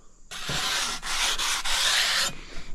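A cut edge of shower tile is rubbed to chamfer it, producing a close, harsh abrasive scrape in long strokes with brief breaks between passes, loud and isolated.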